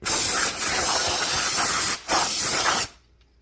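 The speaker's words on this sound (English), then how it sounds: "spray off the flywheel with a brake clean" Brake cleaner hisses from an aerosol can onto a flywheel during a 7.3 IDI diesel engine swap, a loud steady spray with two brief breaks before it cuts off.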